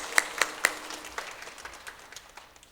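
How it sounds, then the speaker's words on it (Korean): A church congregation applauds: a few sharp claps open the burst, then fade into softer, scattered clapping, faint and in a roomy space. "우리 선생님들께 박수 한번 할까요?"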